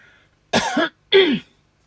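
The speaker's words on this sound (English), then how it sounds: "As you can tell, the cough has come back a little bit" Two short, harsh coughs close by, separated by a brief pause, in otherwise quiet surroundings.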